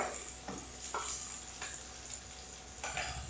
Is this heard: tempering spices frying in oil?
yes